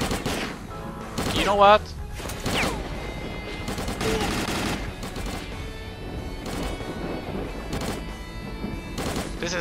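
Pistol gunfire in S.T.A.L.K.E.R.: Call of Pripyat, with sharp shots scattered across the clip, one louder burst near the start, amid game ambience while someone talks over it.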